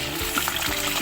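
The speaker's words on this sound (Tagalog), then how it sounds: "Ayan guys, nagpiprito na tayo ng chicken." Chicken marinated in garlic, pepper, vinegar and salt sizzles in hot oil, a steady close crackle and hiss with small bursts of spattering.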